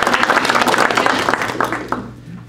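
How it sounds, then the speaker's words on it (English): Audience applause at a leadership institute graduation ceremony, a steady burst of clapping from a crowd that tapers off after about two seconds. "so we can give her a round of applause."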